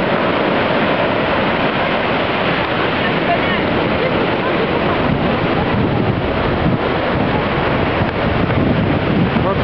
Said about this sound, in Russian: а я несчастный убегаю от этих волн